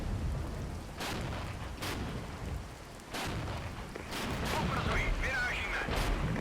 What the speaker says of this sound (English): Artillery's landing perfectly onto the assault engineers.